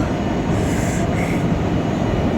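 A train rumbles past a railway platform, a loud steady low roar with rattling wheels and a faint high squeal, filling the short moment with no talking.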